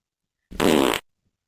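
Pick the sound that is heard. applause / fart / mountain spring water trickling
fart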